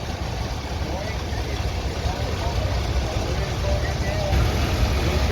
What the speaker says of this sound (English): Here's a John Deere 3020 diesel with a rollover plow.